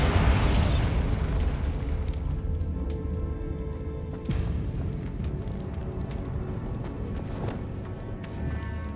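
A Bombarda explosion spell from the game Hogwarts Legacy booms loudly at the start, followed by a rumbling low roar and scattered debris crashes, with a second sharp burst near the middle.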